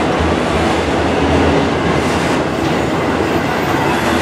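A Norfolk Southern freight of autorack cars, some of them ex-Conrail, passes at close range in Spartanburg, South Carolina, in a loud, continuous roll of wheels with a faint clickety-clack and no talking.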